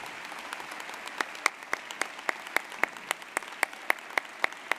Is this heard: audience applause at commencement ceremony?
yes